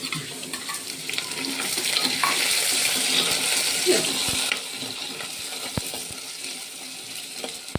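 Tomato and green chili sizzle loudly in a very hot pan for fish curry, a continuous crackling hiss with occasional sharp clicks of a spoon stirring.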